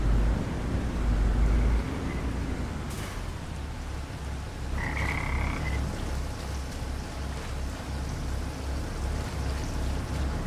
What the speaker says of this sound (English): Come on, frogs, don't stop chirping just on the count of me being here.